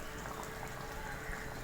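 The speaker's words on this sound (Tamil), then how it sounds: "ஒரு 4 நிமிஷம் கொதிக்க விட்டிங்கன்னா போதும்." Okra tamarind curry boiling in a pot, a faint, steady bubbling and simmering hiss with no voices.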